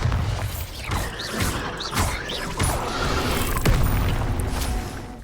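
Bombarda explosion spell blasting in the Hogwarts Legacy video game, several booming impacts and thuds in quick succession over a dense, loud bed of game effects, with no speech.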